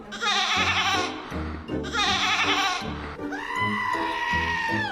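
A woman imitates a goat, giving several drawn-out bleats in quick succession, close and loud, with a steady harmonic background running under them.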